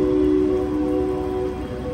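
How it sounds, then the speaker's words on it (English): An Amtrak Capital Corridor train hauled by a Siemens Charger locomotive idles at Oakland Jack London Square station in the rain, a steady low diesel drone with a sustained horn-like tone that fades slightly near the end. "Alright, train is off to Sacramento in the rain."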